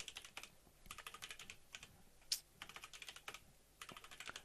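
Quick, uneven bursts of key clicks as a password is typed on a computer keyboard, close and fairly quiet, with a few short pauses between runs of keystrokes and no talking.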